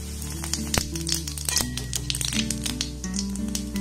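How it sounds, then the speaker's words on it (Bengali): Whole cumin seeds sizzle and crackle in hot mustard oil in a pan, a close, steady frying hiss dotted with sharp pops, with a low background hum. "তেলের মধ্যে সামান্য পরিমাণে গোটা জিরে দিয়ে দেব"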